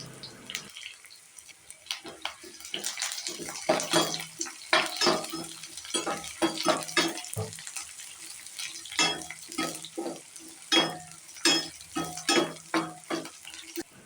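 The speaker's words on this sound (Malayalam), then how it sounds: "6 ചെറിയ ഉള്ളി അരിഞ്ഞത്, 4 വെളുത്തുള്ളി അല്ലി അരിഞ്ഞത്, 3 വറ്റൽമുളക് എന്നിവയിട്ട് മൂപ്പിച്ചെടുക്കാം" Chopped shallots, garlic and dried red chillies fry in hot oil for a fenugreek leaf dal curry, with a soft sizzle broken by frequent close scraping and clattering stirring strokes.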